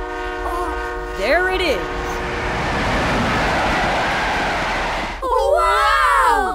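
Cartoon train horn blaring in sustained harmonic blasts for several seconds, then a roaring rush as the train passes close by, with excited cartoon voices talking over it.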